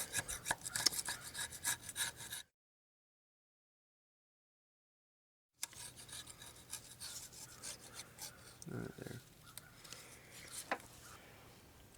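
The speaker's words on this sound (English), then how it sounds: "We're using a razor blade scraper, and we may use a little bit of sandpaper to get a little bit of extra off" A razor blade scraper rasps at an old gasket on a Chevy Impala water pump job, repeated close scraping strokes that stop for a few seconds, then resume with sharper bursts.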